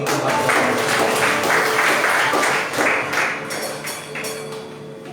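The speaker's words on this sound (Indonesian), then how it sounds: "Tepuk tangan bagi Tuhan." A church congregation at a Sunday worship service claps together, a dense and fairly loud round of applause with some rhythmic pulsing, slowly easing off over five seconds.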